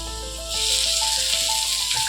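Tomatoes tipped into a hot pan of sautéed onions and carrots set off a loud, steady hiss of sizzling that swells abruptly and holds, with a faint tonal hum running underneath and no talk.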